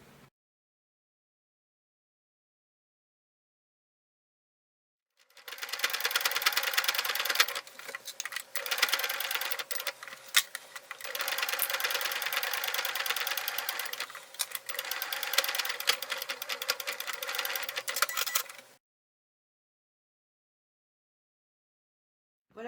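A domestic sewing machine stitches a fabric handbag in one sustained run of about thirteen seconds, its fast, steady needle chatter close and loud with a few brief pauses, bracketed by silence.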